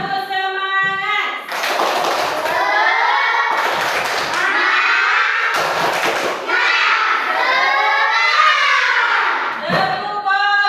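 Children in a class perform the 'tepuk fokus' chant, loud sing-song group voices punctuated by several sharp, synchronized bursts of hand clapping.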